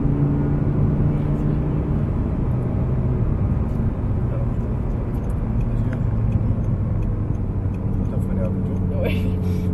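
An Audi R8 engine drones steadily as it accelerates on a race track, a loud continuous low roar heard from inside the car, with an instructor's voice talking over it.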